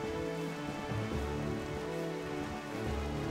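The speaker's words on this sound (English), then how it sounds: "No good, it's raining." Video game rain falling steadily on surfaces, a soft continuous patter heard alone at low level with a low hum beneath.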